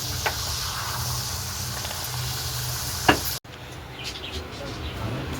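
Steady hiss of luchi (puffed flatbread) frying in hot oil, with a few soft clinks and a sudden cut partway through.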